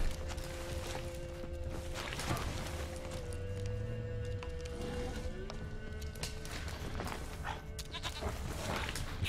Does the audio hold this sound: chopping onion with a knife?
no